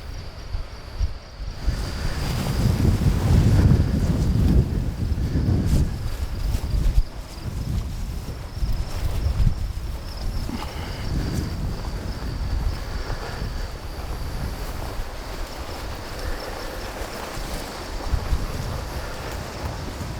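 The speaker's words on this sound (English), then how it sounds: "It was really windy that day," Strong wind gusting along the edge of thick timber and brush during an elk and whitetail hunt, a loud continuous rushing roar buffeting the microphone, heaviest in the first several seconds and then steady, with no voices.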